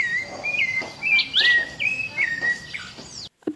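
Jungle birds including a sparrow chirping, a run of bright repeated whistled calls and tweets, close and clear over a faint ambient background.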